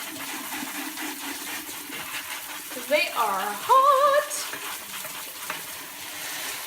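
Tap water runs in a sink over freshly boiled hot eggs, a steady splashing hiss that swells briefly midway, while a person speaks a few words over it.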